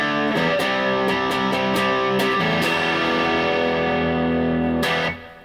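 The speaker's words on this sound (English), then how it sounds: "And if we turn the distortion all the way down" Electric guitar played through a Tone City Mickey distortion pedal with the distortion knob turned fully down, giving a cleaner, lightly driven tone: a few picked notes, then sustained ringing chords that cut off near the end, with no voices.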